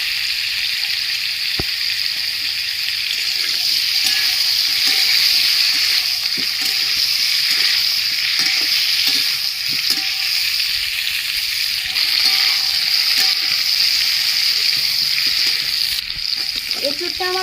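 Food frying in a wok, a loud continuous sizzle close up with occasional faint stirring clinks underneath.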